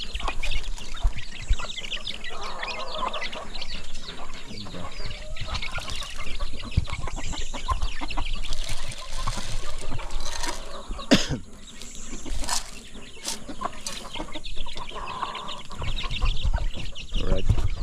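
A hen with her chicks clucking continuously close by, the busy calls layered over a steady background hiss.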